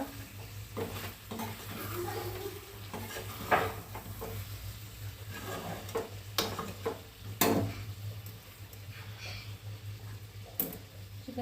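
Chicken for sukka chicken stirred in a pan as it cooks: a soft sizzle runs under irregular scrapes and clinks of the spoon against the pan, with a steady low hum throughout.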